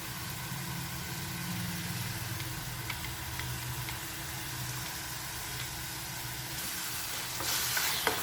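Shallot curry with ground paste sizzles steadily in a pan while being stirred, a continuous soft frying hiss with faint scraping, moderately quiet and without talk.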